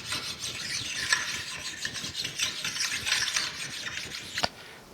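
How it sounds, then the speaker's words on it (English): Hand stoning a rough cast-iron planer saddle with precision ground flat stones, steady close rasping strokes repeating in an even back-and-forth rhythm, with a small sharp knock near the end. "just stoning this, deburring it with my precision ground flat stones"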